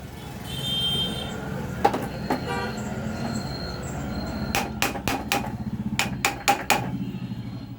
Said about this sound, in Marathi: थोडं हातुरीच्या सहाय्याने त्याला थोडंसं बॅलन्स घेऊन टाकायचं